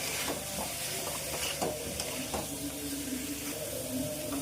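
Sesame powder is stirred into a pumpkin curry in a pan, giving a soft steady sizzle with light scraping and stirring strokes, close and fairly quiet, no talk.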